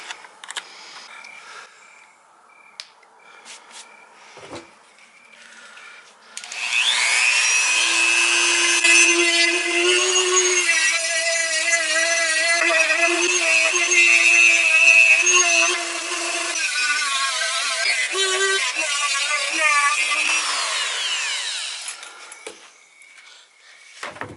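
A Dremel rotary tool with a 120-grit bit sands the polymer frame of a Canik TP9 SFX handgun, a steady high whine running for over ten seconds with shifting pitch, preceded and followed by quiet handling noises.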